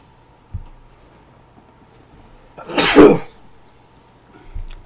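A single sharp sneeze bursts out near the microphone midway through an otherwise quiet stretch, with a couple of faint thumps before and after it and no talking.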